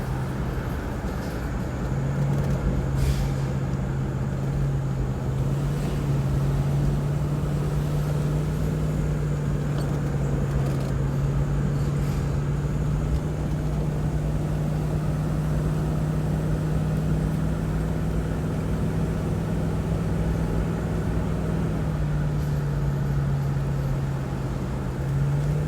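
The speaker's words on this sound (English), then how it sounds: "Second gear with the torque converter locked up." Cheap second-hand Jeep climbing an 11% switchback grade in second gear with the torque converter locked, a steady low engine drone and road rumble holding constant throughout with no talk.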